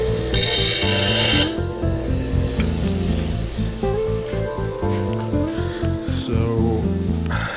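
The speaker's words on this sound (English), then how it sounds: "grinding a stainless bolt" A stainless steel bolt being ground during a motorized bike engine case assembly gives a loud, harsh grinding rasp, with a bright burst in the first second and a steady gritty whine after it.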